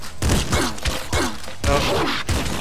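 A shotgun fires repeatedly in the video game Nuclear Throne, three or four loud, close punchy blasts in quick succession, each with a short ringing tail.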